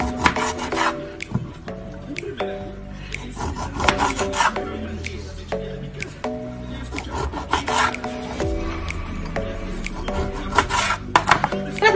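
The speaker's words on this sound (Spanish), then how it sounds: "Vamos a cortar enseguida estos 5 limones." A kitchen knife slices through five fresh lemons in steady repeated strokes, each cut giving a close, scraping rasp against the board, with a faint clatter of kitchen items around it.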